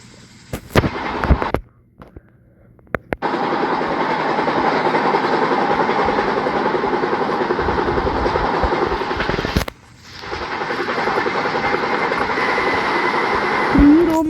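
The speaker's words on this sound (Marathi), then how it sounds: "ट्रॅक साऊंड तुम्ही ऐका, मतलब झोप येईल असा वाटतोय ट्रॅक साऊंड ऐकून" Train in the Indian Train Driving 3D game running at speed, with a loud steady rumble of wheels on track and rhythmic clacks, broken by sharp bangs and brief silent gaps, with no voices.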